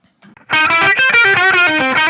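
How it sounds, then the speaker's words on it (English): Electric guitar played through a Fender Duel Pugilist distortion pedal on its Distortion A channel with EQ set flat: a couple of quiet pick noises, then loud, saturated chords ring out in a quick strummed pattern, buzzy and sustained. "I'm going to turn on Distortion A"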